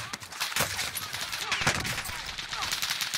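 Gunfire in the Call of Duty Warzone video game comes from a tower: rapid bursts and sharp single shots ring out at medium distance over a steady bed of game ambience.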